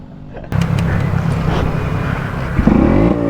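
A two-stroke project motorcycle engine on a test run revs loudly and close, its rough buzzing note climbing and falling, then surging again near the end.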